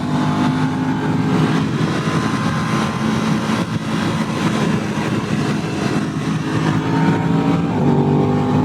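A 2023 Aprilia RS660 motorcycle engine pulls hard at speed with a quick shifter, giving a loud, sustained, close engine roar mixed with rushing wind that holds continuously throughout.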